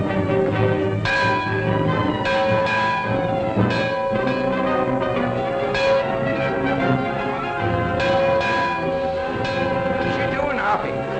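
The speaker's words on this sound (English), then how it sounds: "That bell's gonna ring again." A large bell clangs repeatedly in a 1947 western, with rich, sustained ringing tones that overlap throughout. The struck peals recur at irregular intervals over a continuous noisy film soundtrack.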